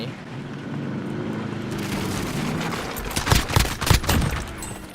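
Rapid bursts of G3A3 battle rifle fire in the video game Call of Duty Warzone, a cluster of loud sharp shots near the end over a steady background din of the match.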